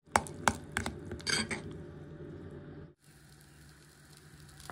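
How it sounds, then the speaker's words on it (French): Mixture frying in a pan with olive oil, opening with several clinks and knocks of utensils against the pan over a soft sizzle, then a steadier quiet hiss after a brief pause. "on va faire frire ça à la poêle avec un peu d'huile d'olive"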